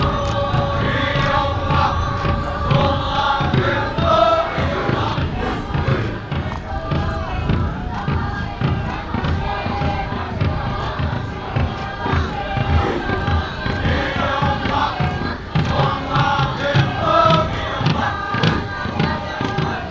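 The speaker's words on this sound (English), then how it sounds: "let's give the cultural troops a big round of applause" An audience at a Republic Day celebration gives a cultural troupe sustained applause and cheering, a dense, even crowd roar lasting throughout with scattered claps and thumps.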